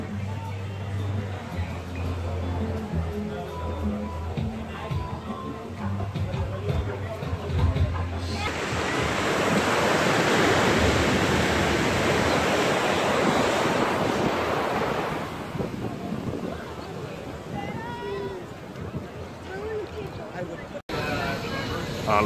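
Ocean surf at the public beach in Sayulita, Mexico, heard from a walkway leading to the sand: a steady wash of waves that swells to a loud roar midway, with wind buffeting the microphone and a person speaking early on.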